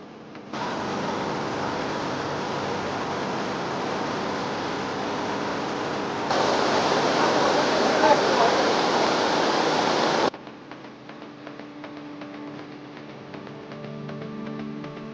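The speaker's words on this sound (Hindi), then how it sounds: "ओ भाई, क्या वाटरफॉल है भाई।" Jungle waterfall at Chilkhani in Uttarakhand: a steady roar of falling water that swells louder midway, then cuts abruptly to quieter, softer outdoor ambience for the final few seconds.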